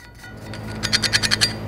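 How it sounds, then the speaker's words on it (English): Debris is scraped off the rear brake of a 2017-or-later Ford F-350 dually. After a quiet start, about six quick, rhythmic metallic scrapes come close up in the final second. "Just gonna clean off some of this extra debris here."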